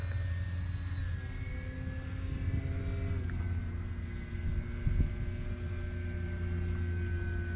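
A steady engine drone with a high whining tone that shifts in pitch, a Cermark Fantasy Flyer RC model airplane flying at a constant distance.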